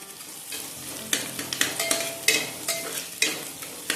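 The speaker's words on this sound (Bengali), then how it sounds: "পেঁয়াজটাকে একটু ভেজে নিচ্ছি" Chopped onion sizzling and frying in mustard oil inside a pressure cooker, with repeated sharp stirring scrapes and clatters over a steady close hiss, no talking.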